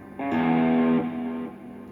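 A single sustained electric guitar note with a distorted tone from a preamp modeler, followed by a quieter repeating delay echo as the sound trails off.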